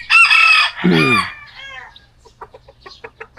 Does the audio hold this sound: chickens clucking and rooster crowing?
yes